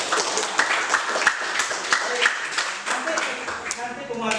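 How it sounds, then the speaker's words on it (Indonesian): Classroom of students applauding a group, a burst of scattered hand claps mixed with chatter and voices that thins out toward the end. "kita beri aplaus untuk kelompok"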